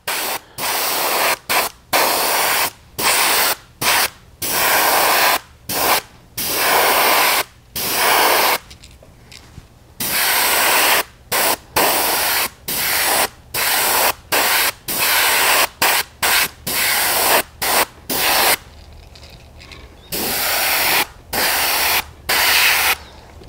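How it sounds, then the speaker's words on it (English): Aerosol spray paint laying a white base coat over a mesh pattern on a fishing lure, loud hissing bursts repeated in a steady on-off rhythm, each a second or two long, close to the microphone with no talking. "let's go ahead and give this a white base coat over the top of our mesh"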